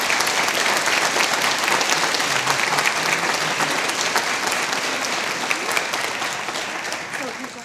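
Audience applause after a youth choir performance fills the room, steady dense clapping from many hands throughout, tapering slightly toward the end.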